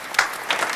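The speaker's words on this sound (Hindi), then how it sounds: "जरा जोरदार तालियां बजाकर अगवानी करें डॉक्टर साहब।" Brief applause from a seated audience at a Hindi comedy poetry gathering welcoming poet Dr. Om Bairagi, a short burst of scattered clapping lasting under a second, moderately loud.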